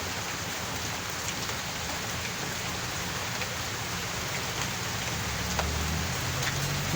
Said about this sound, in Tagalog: Ulan na lang narinig ko